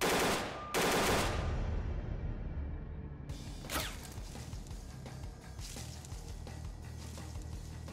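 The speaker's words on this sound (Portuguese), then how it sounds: "O cara tá atirando ainda." Bursts of rapid automatic gunfire from STALKER Clear Sky, a loud opening volley followed by scattered sharper shots and continuous rattling combat noise across the whole stretch.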